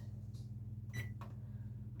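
An oven timer being set gives a short electronic beep, then a fainter second one, over a steady low appliance hum.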